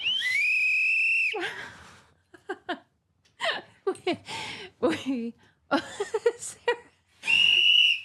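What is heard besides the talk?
blowing a whistle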